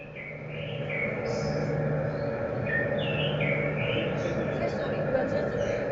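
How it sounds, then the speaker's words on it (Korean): Bright birdsong with varied chirps and warbling phrases over a steady low background hum, the calls coming in short bursts throughout. "새소리"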